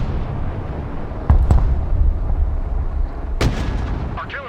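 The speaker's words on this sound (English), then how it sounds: "Let's go ahead and bring in my 3 other artillery." Artillery fire in the military strategy video game Broken Arrow, several heavy booming shots and distant thuds over a constant low rumbling battlefield background, with the loudest blasts near the start and a sharp crack later.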